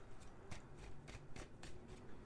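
A deck of tarot cards is shuffled by hand in quick repeated riffles, giving soft, close rustling bursts in a steady rhythm with no voices.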